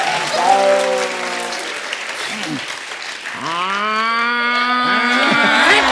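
A person imitates a buffalo moo on a comedy stage show, loud drawn-out lowing calls repeated over a bed of crowd applause and cheering that continues throughout.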